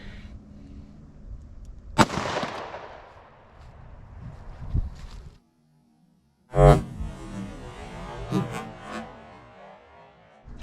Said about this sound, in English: Let's try one more from the J-frame and see how it does.